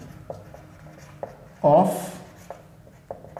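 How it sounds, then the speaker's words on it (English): A short scratchy stroke of writing on a board during a class 10 maths lesson on straight lines, one brief burst between soft taps and a teacher's talk. "Let me just write angle"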